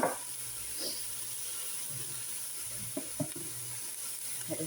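Spiced food sizzles in a pan with onion and cumin as it is stirred, a steady frying hiss with soft scrapes and clicks from the spoon, close and moderately quiet.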